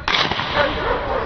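A single loud gunshot goes off at a police dog handler competition in Yaroslavl, during the frontal attack stage. The sharp crack rings out close and decays into a short echoing tail.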